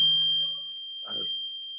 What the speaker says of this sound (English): My fire alarm is misbehaving.